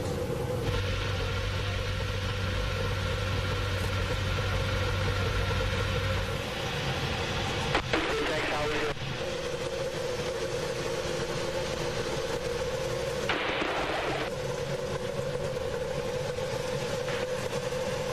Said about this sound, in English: Ladies and gentlemen, y'all start your engines.